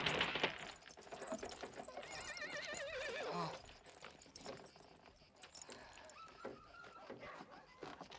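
A horse whinnies in a wavering neigh amid clip-clopping hooves and jangling tack, heard in a Western film scene with other background sounds.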